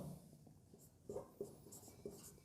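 Pen on paper while a maths solution is written out for a derivatives problem, a quiet close scratching with several short distinct strokes and taps.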